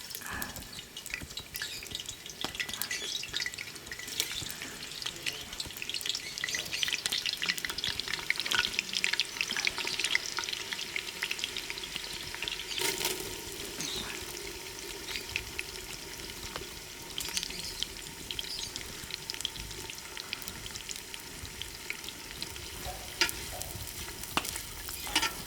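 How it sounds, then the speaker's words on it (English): Onions fry in hot oil in a cast-iron potjie pot for a spicy Indian-style lamb potjiekos, giving a steady, close crackling sizzle with occasional stirring and no talk. "Now that the oil is hot, I'm going to add in my onions to fry."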